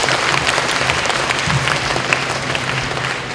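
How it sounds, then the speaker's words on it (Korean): A hall audience at a Korean university admissions event breaks into dense, sustained applause to welcome a speaker to the stage, loud and even throughout. "뜨거운 박수로 맞아주시기 바랍니다."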